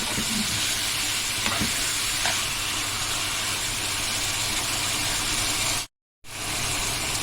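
Liver frying with hot green peppers in a pan, a steady dense sizzle with light stirring scrapes, close and loud, broken by a brief silent gap near the end.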